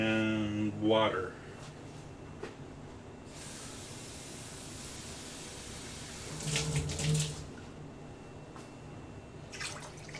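Water runs from a kitchen tap in a steady hiss for several seconds during cooking, with a voice speaking briefly before and clattering and bumps near the end.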